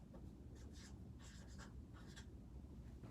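A pen writes by hand on paper, a faint scratchy scribble in several short strokes with brief pauses, quiet and close over a low background hum.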